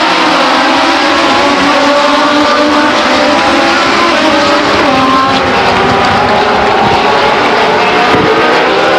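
Race cars accelerating off the line at Stockton 99 Speedway after a caution, a loud dense roar of many engines revving and climbing in pitch together, close and sustained.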